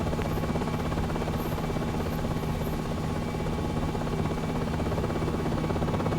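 A Marine One helicopter in the Aerofly FS Global flight simulator, flying over Washington, gives off a steady rotor and turbine drone that stays loud and unbroken for the whole stretch.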